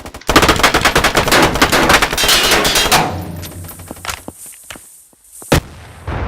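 Loud rapid automatic gunfire in a Roblox game rattles for about three seconds, followed by scattered single shots and clatter, then a sharp final blast.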